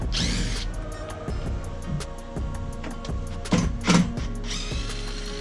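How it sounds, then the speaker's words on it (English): A power drill boring out old rivets on a boat's leaning post, heard close as a steady motor whine with rising bursts and metallic grinding, no talking. "So we got to drill these things out to get all this stuff off of here."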